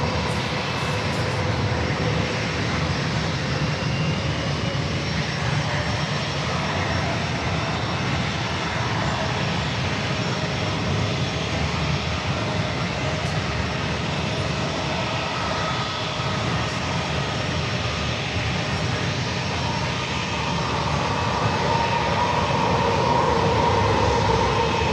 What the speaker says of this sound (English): Right up next is American A321.